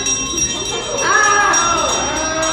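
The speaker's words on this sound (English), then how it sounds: "Ring the bell." A bell is rung with a clear, sustained metallic tone that swells partway through over a steady background hum.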